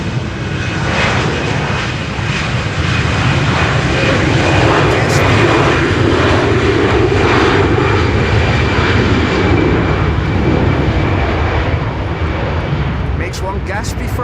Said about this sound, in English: Delta Airlines Flight 57, an A330neo, is also coming this way